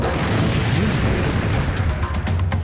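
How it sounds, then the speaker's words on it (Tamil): Booming blast from a nitrogen bomb firecracker in a cartoon Diwali scene, a loud, dense, sustained rumble with crackling bursts and no speech over it. "இன்னொரு பாம்பு வெடிப்பா."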